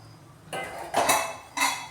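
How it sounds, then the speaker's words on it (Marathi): A metal pressure cooker lid set onto the cooker with dal inside, three quick metallic clanks and scrapes in close succession, loud and near with no talk. "आता यात टाकून मी कुकरला झाकण लावून घेणार आहे"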